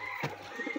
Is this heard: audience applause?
no